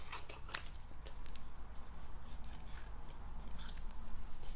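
Scissors snip through paper card pieces up close with a few quiet cuts, set against low background noise and rustling.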